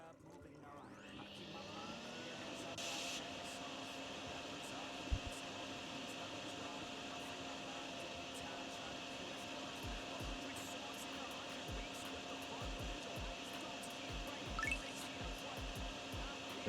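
An in-game vacuum runs while cleaning a convenience store's service corridor in DrainSim, a steady whirring drone with a faint whine on top and a few soft clicks scattered along.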